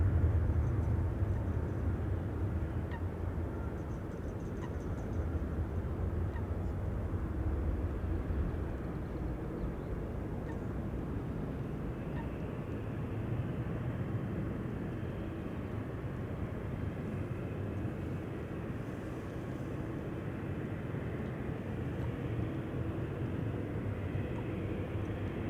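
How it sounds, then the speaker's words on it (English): A KLM Boeing 737 departs Amsterdam Schiphol on runway 18 Left, its engines producing a steady, broad jet roar at a distance that holds evenly throughout without pause, no voices present. "Departures for 18 left in progress. Another KLM 737."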